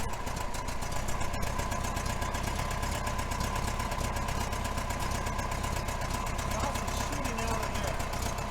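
Air-cooled engine of a 1966 VW Fastback with an exhaust leak idles in a steady rapid ticking chatter, close and continuous, with people talking faintly over it.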